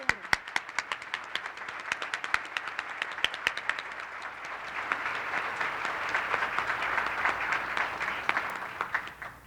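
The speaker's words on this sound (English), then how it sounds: "we could just give a little applaud" An audience claps for a benefit event's committee, dense steady applause across the whole stretch with a few sharper individual claps standing out near the start, building slightly toward the end.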